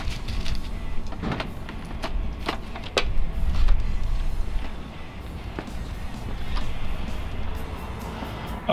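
Spark plugs come out of a 1999 Yamaha 900S Diversion engine that sat unused for ten years, with dry cylinders. Close, quiet ratcheting clicks and scraping tool sounds repeat irregularly throughout.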